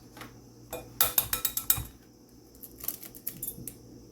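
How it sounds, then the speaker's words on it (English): Several eggs cracked into a dish while batch cooking, heard as a quick series of sharp clicky taps and shell clinks near the mic, with a second softer cluster of taps a moment later against a quiet kitchen background. "I'm only going to crack in a few eggs here"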